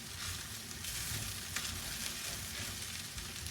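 Risotto rice sizzles quietly in an oiled pan while a spoon scrapes and stirs it, giving a soft, steady frying hiss with small scraping scuffs.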